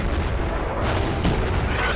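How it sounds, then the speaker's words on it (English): A fortress fires its gun in the Belgian Blitzkrieg campaign of the strategy game Order of Battle: a loud, heavy booming blast that rolls into a thick rumbling tail, with a second sharp report about halfway through. "Fortress takes a shot."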